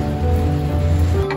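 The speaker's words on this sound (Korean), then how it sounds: "비가 와요." Rain falling outdoors on Long Island, New York, a close patter and wash over a low steady hum, with no one speaking.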